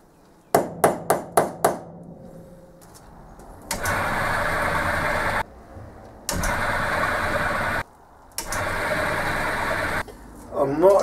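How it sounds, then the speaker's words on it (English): Power drill boring mounting holes in leadscrew bearing parts held high in a vise on a wooden block, running in three loud sustained bursts after a few sharp taps, with short pauses between. "Need to drill mounting holes on these now so that I can mount them onto here."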